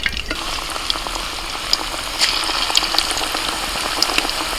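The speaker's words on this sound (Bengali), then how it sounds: "এরকম হাফ ভেজে প্রথমে আমি তুলে নেব চিকেনটা আমি দুবার করে ফ্রাই করব" Chicken 65 pieces half-fry in a pan of oil, a close, steady crackling sizzle with scattered bright pops and spits throughout.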